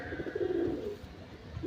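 Punjabi pigeons cooing close by, a soft low burbling coo that swells and fades across a couple of seconds, with a second brief coo near the end over faint background noise.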